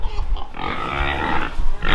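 Pigs on a farm grunting and snuffling continuously at close range, a dense, rough, low chorus that holds steady for the whole stretch with no talk over it.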